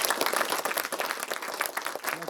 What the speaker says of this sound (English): we're gonna give these guys one round of applause